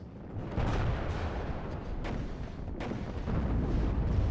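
Artillery shelling in the wargame WARNO, a heavy, sustained rumble of overlapping detonations with several sharper bursts standing out, loud and close, with no voices.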